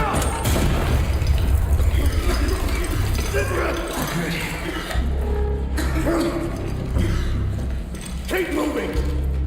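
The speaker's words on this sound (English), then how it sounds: "Grenade! Get down!" Grenade blasts in the shooter game Arena Breakout land as heavy booming thuds amid continuous battle noise, with voices shouting over the chaos.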